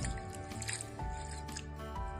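Spinach leaves being washed clean in a few changes of water, giving close, soft wet squishing and dripping sounds in short bursts with no talking.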